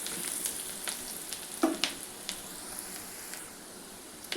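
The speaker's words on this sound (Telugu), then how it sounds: "మంచి బ్రౌనిష్ కలర్ వచ్చే వరకు ఆనియన్స్ని వేయించుకోవాలి." Onions frying in a pan until brown give a quiet, steady sizzle with occasional louder pops and crackles, and no voices are heard.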